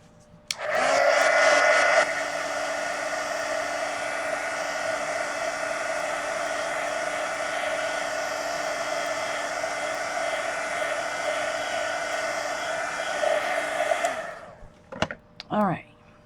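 A hair dryer blows over layered watercolor paint on Bristol paper, starting with a loud whoosh and then holding a steady, close whine for about fourteen seconds before cutting off with brief handling noises.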